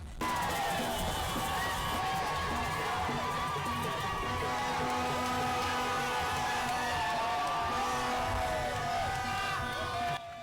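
Large, dense crowd cheering and shouting as the head of state arrives at Pala airfield in Mayo-Kebbi Ouest, Chad, a steady loud roar of voices and whoops with tonal horns or whistles running through all ten seconds.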